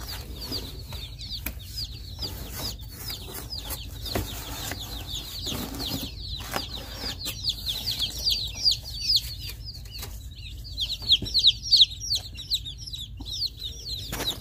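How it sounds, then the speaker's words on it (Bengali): Day-old chicks and ducklings of several breeds peep nonstop at close range, a dense stream of high overlapping chirps with a few louder bursts and no talking. "চিকেন এবং হাঁসের বাচ্চা আছে।"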